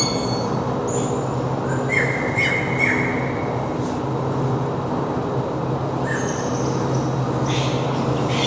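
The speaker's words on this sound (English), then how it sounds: "Oh, there's a white-headed buffalo weaver bird." A white-headed buffalo weaver calls inside a zoo aviary: a few short, high chirps around the two-to-three second mark and again near six seconds, fairly faint over a constant low rumble of background noise.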